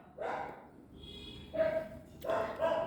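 Several dogs bark back and forth in short, repeated yapping bursts, fairly close and moderately loud, with a faint whimpering tone between the barks.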